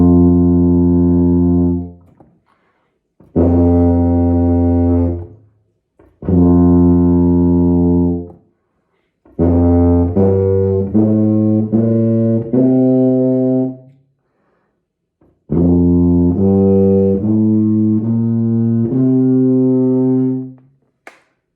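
Tuba played with an open mouth cavity and wide space between the teeth, sounding as a series of loud, full sustained low notes with short gaps between them, alone with no talking.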